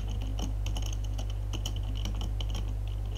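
Quick, irregular keystrokes on a computer keyboard while Thai text is typed in an Ubuntu editor, crisp taps standing clearly over a steady low hum.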